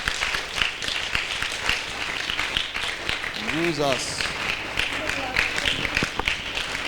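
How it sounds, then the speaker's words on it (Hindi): Applause from a crowd for a woman at a divine healing conference, steady clapping under a voice that talks and calls out over it. "आइए बहन के लिए जोरदार तालियां बजाएं।"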